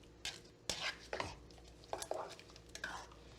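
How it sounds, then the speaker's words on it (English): Canned beans seasoned with salt and black pepper being stirred in a pot, giving several scraping, clattering strokes at close range with no talking. "And you just stir that."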